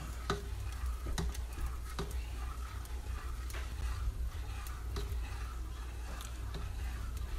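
Chicken penne vodka sauce stirred in a pot gives a quiet, steady bubbling simmer with soft, irregular clinks and scrapes of a utensil against the pot.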